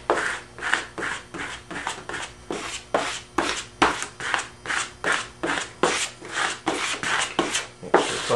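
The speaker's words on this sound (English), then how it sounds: "Run the squeegee over it a couple times." A squeegee rubbed over vinyl transfer tape in firm, rhythmic back-and-forth strokes, about two per second, each a close, dry scraping swish with no speech.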